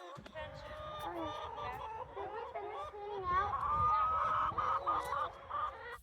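A flock of young laying hens clucks and chatters continuously at close range on a family farm, with overlapping calls rising in pitch and a steady murmur throughout.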